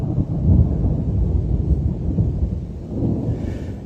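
Rolling thunder rumbles steadily through a stormy spell, a deep continuous roar with swells around the start and again near the end, carried alongside wind buffeting the microphone.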